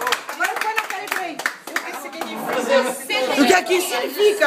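Clapping from a small crowd at a mother's birthday party, brisk and rhythmic at first and then looser, mixed with lively chatter and a voice nearby.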